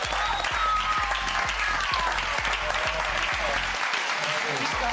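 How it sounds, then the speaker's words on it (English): A studio audience at a Big Brother eviction show breaks into sustained applause, dense and steady, with a host's voice speaking over it. "he does deserve a round of applause"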